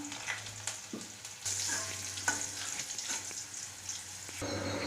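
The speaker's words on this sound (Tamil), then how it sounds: "அரை ஸ்பூன் கடுகு போட்டு நல்லா பொரிய விடுங்க" Steady crackling sizzle of half a spoon of mustard seeds spluttering in hot oil for a tempering, with sharp pops scattered throughout, close and fairly loud.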